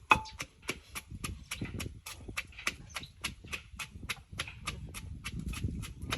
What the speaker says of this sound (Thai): ต้องใช้พื้นที่ข้างล่างตำเพราะว่าข้างเทิงมันจะดังเคริงเคริงเคริงเคริงอย่างเงี้ยนะทุกคน